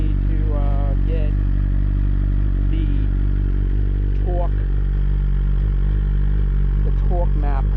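A 2023 BMW S1000RR M Package sport bike idles after a cold start, a loud, close, continuous low rumble with brief faint chirps above it throughout.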